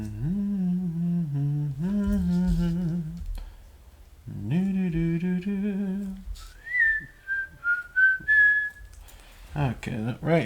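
A person whistles a melodic tune while working on a drawing, clear close phrases with pauses between, ending with gliding high notes and a few faint clicks.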